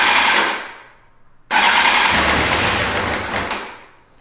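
A Kawasaki ZX6R motorcycle engine, after a coolant flush, cranks and catches, runs briefly, cuts out, then fires again into a loud, steady running roar that fades toward the end.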